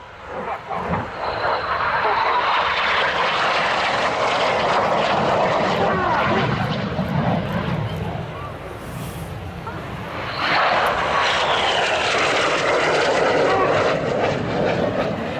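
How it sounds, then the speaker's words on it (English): Red Arrows BAE Systems Hawk T1 jets race toward each other at low level in an airshow synchro pass at RIAT 2012. A loud, sustained roar briefly dips, then surges back just as powerfully. "Synchro are now closing at over 800 miles an hour, just 100 feet above the runway to perform the Synchro pass"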